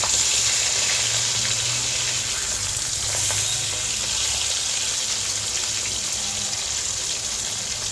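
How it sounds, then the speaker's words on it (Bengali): Pieces of katla fish fry in oil with a steady, moderate sizzle and soft crackle, a constant hiss under a faint low hum from the kitchen. "মাছটা ওদিকে ভাজা হচ্ছে"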